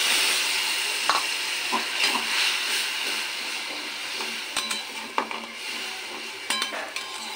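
A splash of water goes into sizzling, well-fried boal fish curry in a pan, and a steady hiss follows with scattered clinks of a stirring utensil against the pan.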